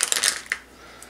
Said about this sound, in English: All right, it's a nice Ziploc bag. Opening it up.